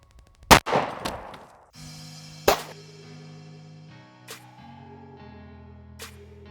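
A .40 caliber pistol fired into a block of Play-Doh: two sharp, loud gunshot cracks about two seconds apart, each followed by a ringing decay, then fainter clinks and thuds.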